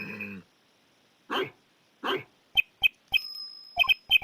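A dog in a video game barks in short, sharp bursts: two deeper barks, then a quick run of clipped yaps close up, with a faint bell tone ringing underneath and no voices.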